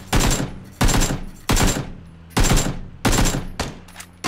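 Loud bursts of rapid automatic gunfire in a battleground shooter video game, about six sustained volleys separated by short pauses, close and dominant with no talk over them.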